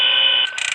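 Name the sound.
alarm going off in Five Nights at Freddy's 3 video game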